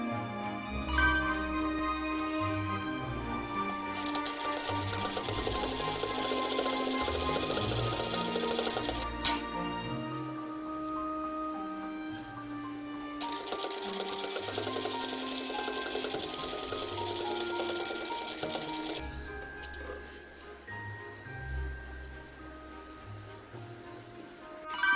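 A sewing machine stitches wide tucks in fabric, running in two long, steady whirring bursts separated by a pause, set against a quieter background.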